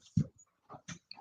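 A dog whimpers in short, separate nasal whines and soft yelps indoors, wanting to be let out, fairly close with quiet gaps between the cries.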